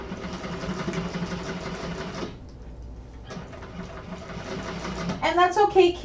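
A sewing machine runs steadily through the first side of an Aster project, a dense mechanical whir that carries for several seconds, drops out briefly, then resumes, with a voice talking over it.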